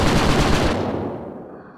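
Rapid turret gunfire in the video game Project Eden, a loud, dense burst of shots that fades into a decaying tail.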